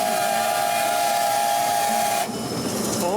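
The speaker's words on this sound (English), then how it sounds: "A toot of the whistle, please." A steam locomotive on the Gwili Railway in South Wales gives a loud, steady whistle toot of about two seconds, which cuts off into a softer hiss of steam.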